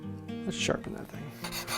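A tool is sharpened in a woodworking shop, short scraping rasp strokes coming in a couple of brief bursts, close and fairly quiet.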